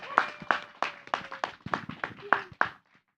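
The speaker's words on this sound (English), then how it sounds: "please give our new members a warm welcome and applause" A small audience welcoming new members at a Toastmasters inauguration: about nine distinct hand claps, near and fairly sharp, at an uneven pace, before they stop abruptly into silence.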